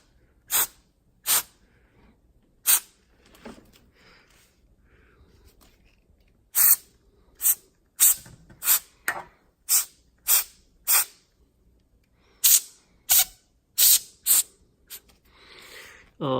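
Short sharp bursts of compressed air spray clean inside a MacBook Pro, coming in about a dozen separate hissing blasts, some isolated and some in quick runs, close and loud with quiet gaps between.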